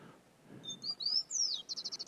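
Synthetic birdsong generated by a robot and played back to birds, a short phrase of thin high whistles and a sweeping upward-then-down note, ending in a quick run of rhythmic repeated chirps.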